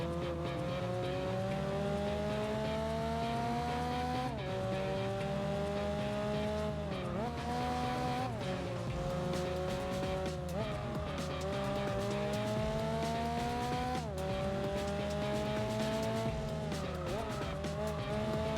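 Racing cars in Gran Turismo 4 drone loudly and continuously as engines rise and drop through gear shifts, with repeated tire squeals through the corners.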